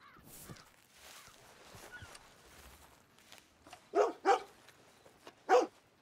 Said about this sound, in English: it's a dog. It's an Australian Shepherd.